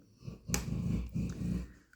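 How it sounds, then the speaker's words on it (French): A sleeping dog snores close by, with a few low, rumbling breaths in a slow rhythm after a sharp click, and no talking. "c'est Marty qui ronfle"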